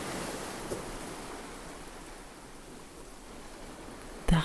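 Steady ocean surf washing onto a deserted tropical beach lined with palm trees, a soft continuous wash of breaking waves with no talking, ending in a brief louder bump.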